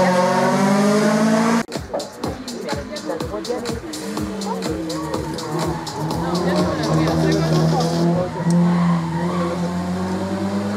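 A race car at the Quettreville hill climb roars past close by, engine note rising and falling through rapid gear changes with tire squeal, while a commentator talks over a murmuring crowd.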